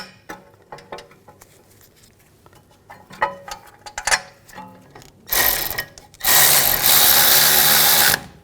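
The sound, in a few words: tightening brake caliper bracket bolts on a BMW 328i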